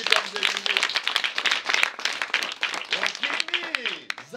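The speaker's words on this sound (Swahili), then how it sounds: "Piga makofi kwa mzee." Dense applause and clapping from a crowd at a parents' association gathering in Singida region, Tanzania, honouring an elder at a school aid event; steady clapping continues throughout, with some voices mixed in.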